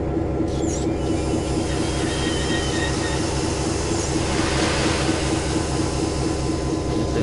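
Locomotives on Donner Pass in Train Simulator rumble steadily with a constant low drone, rail noise and faint wheel squeal, continuous and fairly close throughout with no talking.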